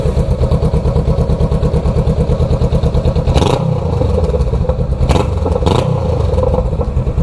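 A Honda Rebel motorcycle fitted with a small aftermarket exhaust add-on idles loudly and steadily close by, its rapid thumping pulses clattering on, with a few brief louder blips partway through and no talk.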